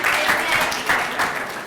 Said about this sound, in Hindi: तालियां बजनी चाहिए दोस्तों।